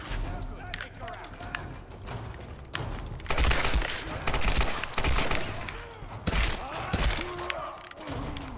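Gunfire in the action game Tomb Raider (2013), with bursts of shots and heavy thuds over a busy battle soundscape, while a player talks over the action.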